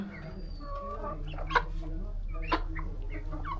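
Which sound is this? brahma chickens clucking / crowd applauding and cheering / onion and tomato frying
brahma chickens clucking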